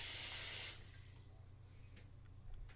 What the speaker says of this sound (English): Water, just cover them nicely so none of them are air exposed.